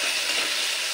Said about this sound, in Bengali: আদাটা একটু তেলের মধ্যে নেড়ে নিতে হবে